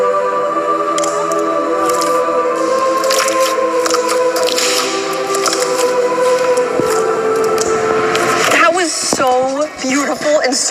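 Slime being mixed and squished by hand, with a steady run of wet squelching and sticky squishing close up, loud throughout, and a few brief tonal squeaks near the end.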